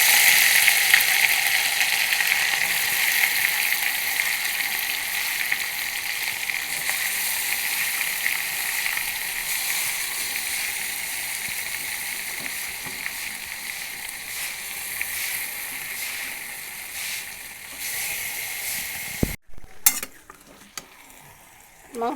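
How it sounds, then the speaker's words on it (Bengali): Chicken meat frying in oil for a quick chicken biryani, after potatoes were fried in the same oil. A steady, close sizzle with faint scraping and stirring runs throughout. It thins out near the end, where a few clattering knocks break in. "ওই তেলে আর মাংসটা রান্না করে নেব।"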